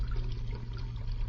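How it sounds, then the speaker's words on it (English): Cream poured into a metal pail for homemade ice cream, a soft steady liquid trickle over a low continuous hum. "I pour in the cream"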